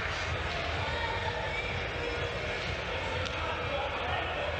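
Home crowd at a university wheelchair basketball championship final roaring in a steady, dense wash of cheering and noise that fills the whole stretch, with court sounds and voices blended in.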